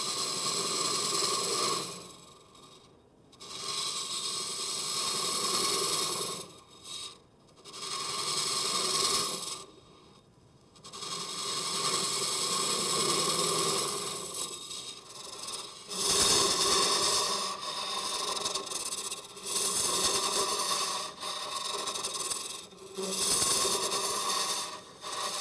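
Hollowing tool cutting into a spinning wooden sphere on a lathe, a harsh rasping scrape that comes in long stretches broken by short pauses, fairly close and loud with no talking.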